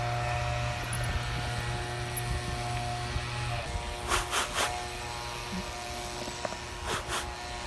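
A drill bores a tap hole into a maple tree with a steady, droning buzz that stops partway through, leaving quieter scraping and a few soft knocks outdoors.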